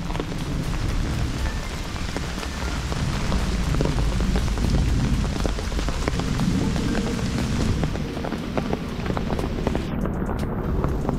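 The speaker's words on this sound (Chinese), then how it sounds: "落大雨" Heavy rain falling on a hiking trail near Shing Mun Reservoir in Hong Kong, a loud continuous wash of drops mixed with wind buffeting the microphone, unbroken for the whole stretch.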